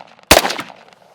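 One loud, close gunshot during a military shooting drill, with a sharp crack and a short rolling echo that fades within half a second.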